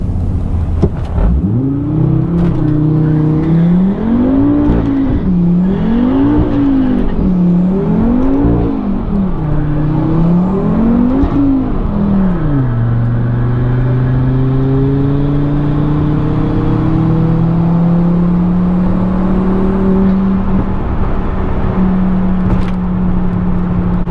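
Volvo V70R engine launching hard in a drag race, loud and close, revving in repeated rising and falling surges before settling into a long, steady climbing drone, with no voices.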